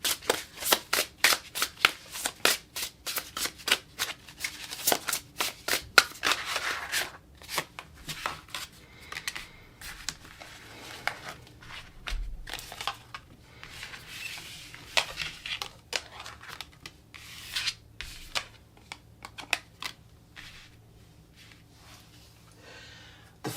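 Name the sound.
shuffling tarot cards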